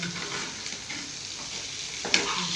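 Vegetable poriyal stir-fry cooks in a home kitchen pan, giving a steady close sizzle with soft scraping stirs and one sharper clink of the spatula near the end, no voices.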